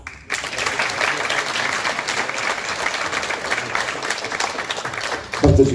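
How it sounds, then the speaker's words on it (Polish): Sustained applause fills a gala hall in Poland, a dense crowd clapping loudly and steadily for about five seconds before it cuts off abruptly as a voice returns. "Wielkie brawa."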